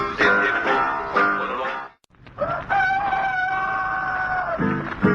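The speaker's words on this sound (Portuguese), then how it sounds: "ao romper do dia o galo canta pra saudar o sol" Two loud rooster crows played on a radio program, one after the other with a short silent gap between them and no talk over them.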